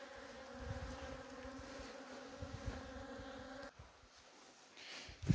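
Honeybees buzzing steadily at an open beehive that appears to be queenless, a dense continuous hum close by that fades out partway through, with no talking.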